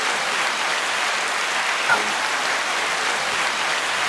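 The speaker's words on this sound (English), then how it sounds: "the applause was just blowing my mind for a second there" A studio audience at a live tech talk show applauds steadily, dense clapping held at an even level throughout with one brief louder burst near the middle.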